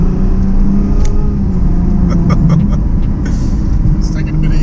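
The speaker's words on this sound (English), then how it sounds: "So You can hear it's a deep" A Porsche 911 Turbo S or Ferrari 458 Spider or F12 drones with a deep, bassy engine note while driving, loud and steady throughout, with faint clicks from inside the cabin and people talking over it.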